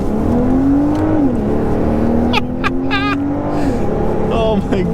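A Volvo V60 Polestar's engine pulls hard on a highway, a steady, loud drone rising in pitch as it accelerates, with road and wind noise throughout and brief whirring and chirping sounds near the end.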